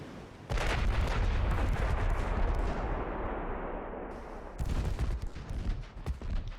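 Heavy naval guns on a battleship fire in the warship game Ultimate Admiral Dreadnoughts, a loud sustained booming roar with rolling rumble, a brief dip, then further blasts.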